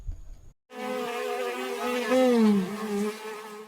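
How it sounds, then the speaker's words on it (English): A large bee buzzes loudly and steadily close by, with a rich harmonic drone whose pitch bends and swells briefly as it moves near, after a short quiet start. "Such a big bee."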